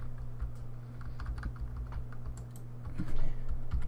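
Computer keyboard arrow keys are pressed during a video game, giving quick, light plastic clicks in short irregular runs, close and fairly soft, with no talking.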